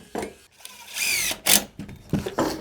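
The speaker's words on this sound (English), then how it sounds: "We're going to add our screws. Love me a Robertson screw." A drill driving Robertson screws into a budget garden shed panel gives short whirring bursts. A brief high-pitched screech sits in the middle, and several short spins come close together.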